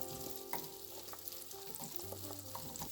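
Apples fry in butter in a non-stick skillet, a soft continuous sizzle with light stirring taps and scrapes, quiet and close.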